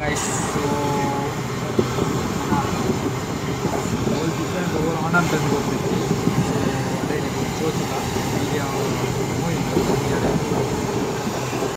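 A train on an Indian railway line passes from the opposite direction, a loud, steady rumble with rhythmic wheel clatter heard from aboard another train.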